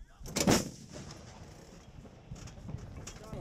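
An M777 howitzer fires a single heavy, booming shot right at the start, then a quieter rumbling tail and faint background activity follow.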